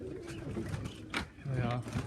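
Young birds in an aviary coo and make soft calls at close range, with low cooing tones mixed with brief chirps, while a person speaks over them.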